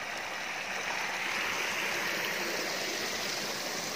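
Irrigation water flows in a small vegetable garden with a steady, continuous rushing and trickling sound, close and even throughout, with no voices.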